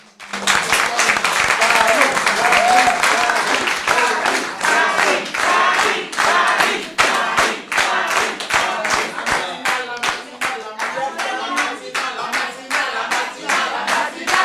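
An audience at a conference hall breaks into loud, sustained applause, many hands clapping, with distinct sharp claps standing out. The applause lasts over ten seconds and thins out slightly toward the end.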